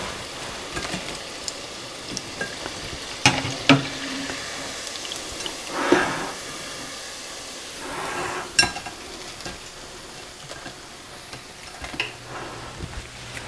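Food finishing in a pot of hot grease on a burner crackles and sizzles softly, with scattered pops, spoon clinks and stirring scrapes up close; no voices.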